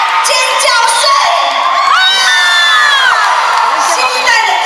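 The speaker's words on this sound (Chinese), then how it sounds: "尖叫声！" A concert audience of fans screams and cheers at a Taiwanese-language song concert, with sustained loud shrieks and whoops from many voices swelling together in a bright, continuous roar.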